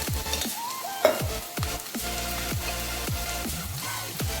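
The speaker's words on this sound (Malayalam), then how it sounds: "അണ്ടിപ്പരിപ്പ് ചേർക്കും ക്യാഷിനട്ട് ചേർക്കും നന്നായി മൂത്ത് വരുമ്പോൾ" Cashew nuts frying in a pan of oil for a Kerala-style paneer masala produce a steady sizzle, broken by repeated scraping sweeps of a spoon at a regular stirring rhythm.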